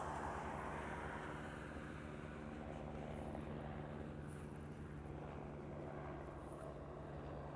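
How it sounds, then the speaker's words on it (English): Hawaii-based C-17 military transport jet, a faint, distant and steady engine rumble and hiss that holds evenly throughout with no voices. "That is a Hawaii-based C-17."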